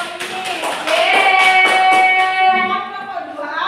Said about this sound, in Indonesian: Ayo kita beri tepuk tangan untuk kelompok ini.